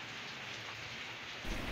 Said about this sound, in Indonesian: hujan deras mengguyur Kecamatan Huamual Seram bagian barat Maluku